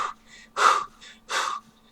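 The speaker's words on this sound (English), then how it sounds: "Heavy breathing." Two loud heavy breaths come close and alone, each a sharp, breathy rush about half a second long with a short pause between them, made by a person on a podcast.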